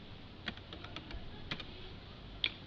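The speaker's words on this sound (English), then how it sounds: "Let's type in 10 over 21." Light clicking keystrokes on a computer keyboard as an answer is entered in an online maths exercise, a sparse handful of quiet taps spread over a few seconds, close and alone.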